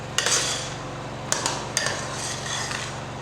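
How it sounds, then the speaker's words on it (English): Stirring garden egg pepper sauce in a pot, a soft continuous scraping swish punctuated by a few sharp metallic taps of the utensil on the pot rim, close and alone without speech. "stir this so that everything can combine together"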